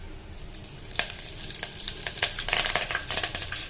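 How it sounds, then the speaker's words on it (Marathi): Mustard seeds and curry leaves crackle and sizzle in hot oil as tempering for palak varan, with dense popping spatters growing busier over a steady frying hiss, close and without speech. "चला, आता आपण आधी फोडणी देऊन घेऊया।"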